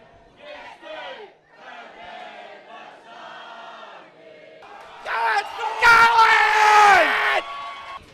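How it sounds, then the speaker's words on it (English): Football fans in a Boston bar sing and chant together, the voices loud and close, rising to a fuller roar in the last few seconds. "Oh, what a crowd tonight, though, eh?"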